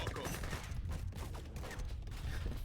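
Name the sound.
Gatling guns firing in a video game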